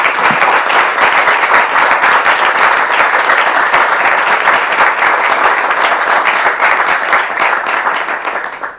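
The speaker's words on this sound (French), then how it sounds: "On peut applaudir toutes ces interventions." Loud, sustained applause from a church evening gathering audience, dense continuous clapping that holds steady and fades slightly at the end, with no talking over it.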